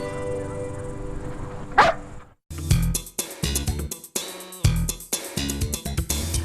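A dog barks in a series of short, loud bursts with brief gaps between them, following an earlier sharp yelp, close and alone without talk.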